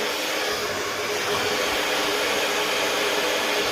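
A handheld hairdryer runs at a constant setting, a loud, steady airy roar close by that holds unchanged throughout with no voices.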